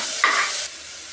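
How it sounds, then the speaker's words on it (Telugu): Mustard seeds, cumin and lentils sizzling in a tempering as they are stirred, one short scrape of the spoon over a steady hiss in a brief, fairly loud burst. "అలాగే పోపు కావాల్సిన ఆవాలు, జీలకర్ర, పప్పు, ఉప్పు వేసుకొని కలుపుకోవాలి."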